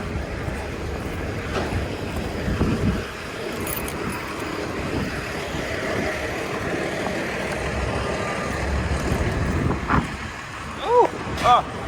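Steady breezy wind rushes outdoors beside a truck on a cold day, broadband and continuous, with faint traffic rumble underneath and a few brief higher tones near the end.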